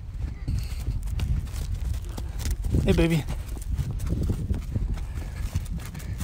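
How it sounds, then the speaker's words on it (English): Hooves clop over rough ground among general outdoor rumble, with a horse's short whinny midway and a person speaking briefly. "I left the horses, but watch, they're gonna catch up to me."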